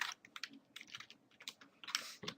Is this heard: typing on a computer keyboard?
yes